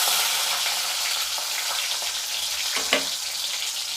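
Dried red chilies and small shallots frying in a pan make a continuous crackling sizzle with a light stir or clink near the end, close and steady, and nobody speaks.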